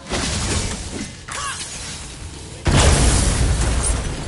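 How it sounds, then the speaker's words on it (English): Debris crashes and shatters in the God of War video game, one heavy breaking burst followed by another louder crash, with rumbling impact noise throughout. "I will never get tired of shattering things with this."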